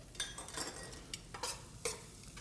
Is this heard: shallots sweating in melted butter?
yes